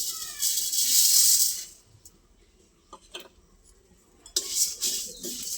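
Dry chillies and spices stirred in a pan for mango oil give bursts of close, scratchy scraping and rustling, separated by a quieter stretch with a few isolated taps and knocks.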